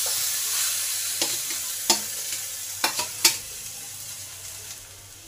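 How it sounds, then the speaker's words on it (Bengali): Potatoes are stir-fried with spices for an aloo kulcha filling: a continuous sizzle fills the pan while several sharp spatula clacks and scrapes punctuate the stirring, close by and without speech. "এবার আলুটাকে ভালো করে এই মশলার সঙ্গে মিশিয়ে নেব।"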